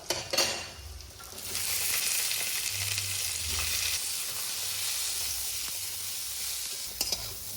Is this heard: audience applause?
no